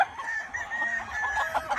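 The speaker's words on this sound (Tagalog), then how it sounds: "These are the 10 cocks, Paolo." A rooster on a farm crows once, close and clear, in a short rising call with faint background noise.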